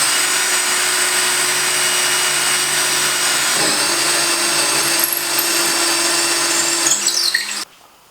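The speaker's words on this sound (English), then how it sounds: "I'm just drilling the holes through to" A power drill whines continuously for several seconds at steady speed, close and loud, boring mounting holes through a workbench top before stopping abruptly.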